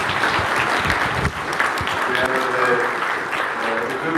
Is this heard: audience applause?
yes